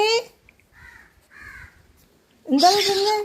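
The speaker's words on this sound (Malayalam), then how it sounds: "എൻ്റെ സംസാരം കേട്ടതേ ഉള്ളൂ വിളി തുടങ്ങി കിളിക്കുട്ടി" A bird's harsh caw rings out loudly near the end, after a few quieter, softer sounds.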